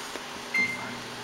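A microwave oven hums steadily while cooking a chocolate mug cake with chocolate chips, vanilla and milk, a constant mid-level drone with a brief louder bump partway through.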